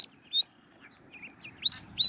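Baby ducklings squawk at a pond in short, high, sharp peeps, a few spaced calls that come in quick bursts, near and fairly loud against a quiet background.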